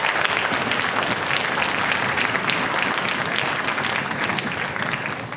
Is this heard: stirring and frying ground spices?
no